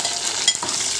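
Ivy gourds frying in oil with a close, steady sizzle and a brief stirring scrape in the middle, lasting about a second.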